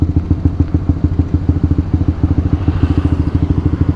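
A Honda CBR K45R motorcycle idles close by, its exhaust and engine thumping in a rapid, even, loping pulse that repeats steadily with a slight clattery edge.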